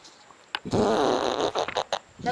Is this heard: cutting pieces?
no